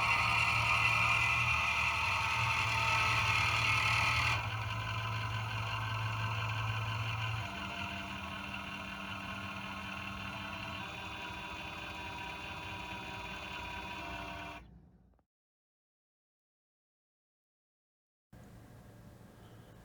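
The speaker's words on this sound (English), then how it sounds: "Here you see the underside of the turntable in action. You can see the circuit board, the belt drive, and the motor." An O scale model railroad turntable's motor and belt drive run with a steady low hum and faint whine. The tone shifts a few times before it stops into silence, then a quieter hum returns.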